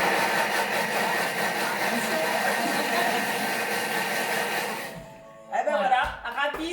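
A Thermomix whips strawberry mousse at speed 6, a loud steady whirring motor drone lasting about five seconds that then cuts off abruptly, followed by a short burst of speech.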